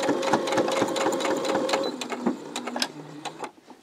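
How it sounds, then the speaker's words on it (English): Close up, a sewing machine stitches a short back stitch on a small quilted key fob, a rapid rhythmic clatter of the needle that slows and stops toward the end, without talk. "I'm going to start sewing a little back stitch"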